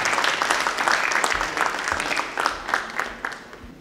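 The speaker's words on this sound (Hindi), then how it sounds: "आप हजरात जोरदार तालियों से उनका इस्तकबाल करें" Strong, dense audience applause welcoming a woman poet at a televised mushaira, continuous clapping from a large crowd that is loud at first and gradually tapers, with no talking over it.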